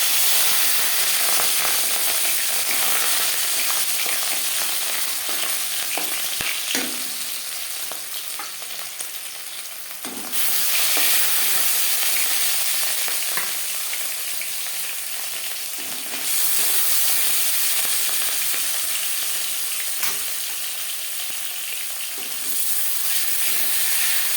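Marinated rohu fish pieces frying in hot mustard oil, a loud continuous sizzle and spatter close by, rising sharply in bursts as pieces are added or turned, with occasional scraping of a spatula in the pan.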